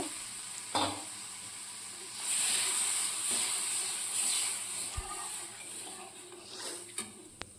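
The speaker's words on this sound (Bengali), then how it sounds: "এবার আমি পরিমাণ মতো জল অ্যাড করব।" Loud sizzling and bubbling from a pan swells after water splashes onto frying spice paste, with occasional stirring knocks and clinks, steady and close throughout.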